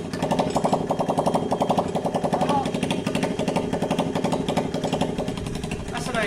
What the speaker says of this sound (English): That's an engine.